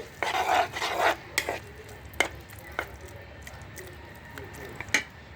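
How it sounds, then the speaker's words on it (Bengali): Frozen boiled carrots and capsicum are stirred in a pan for white sauce pasta, a soft sizzle beneath several sharp spoon scrapes, dense at first and then spaced out, close and fairly quiet with no talking. "আমি এখানে ফ্রোজেন করাটা দিয়ে দিচ্ছি সাথে সাথে নাড়িয়ে দিতে হবে"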